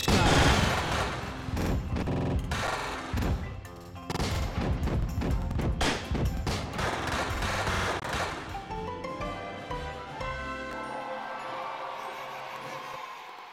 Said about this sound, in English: Those fireworks light up the sky.